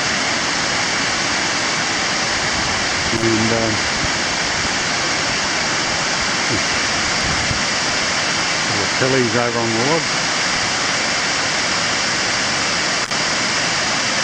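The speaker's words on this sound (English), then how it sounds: "And there's quite a lot of water flowing over it." River water pouring over a weir after recent storms, a steady broadband rushing roar that fills the whole clip, with someone talking briefly over it and faint tonal sounds in the background.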